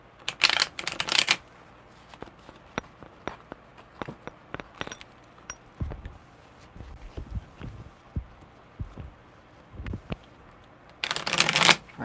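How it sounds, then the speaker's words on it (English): Tarot cards are shuffled in quick riffling bursts at the start and end, with scattered soft taps and flicks in between. "All right, one more good shuffle, Allie."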